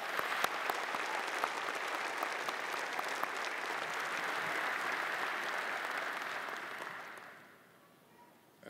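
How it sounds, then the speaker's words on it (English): A commencement audience claps in sustained, steady applause for several seconds, dense and even, before fading out near the end. "let's give everyone who's loved you and supported you another well-deserved round of applause"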